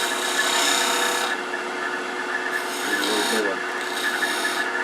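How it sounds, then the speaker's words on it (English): A skew chisel cuts a V-groove between beads on wood spinning on a lathe, giving a steady close scraping hiss with slight changes in tone as the cut shifts. "I'm going to come in there with a skew to kind of define make a V-cut between them"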